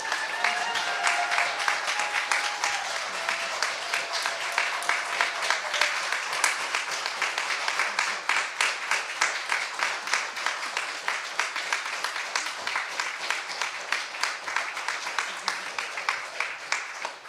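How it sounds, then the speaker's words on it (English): An audience at a piano trio concert applauds steadily, a dense wash of many hands clapping that holds at a fairly even level for the whole stretch, with a brief voice near the start. "So we just wanted to take a second to give her a round of applause for her time here."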